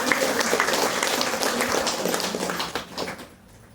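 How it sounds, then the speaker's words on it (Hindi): Audience clapping at a spiritual talk in a temple, a dense burst of hand claps with some voices mixed in, fading out toward the end. "ताली बजा लो एक बार"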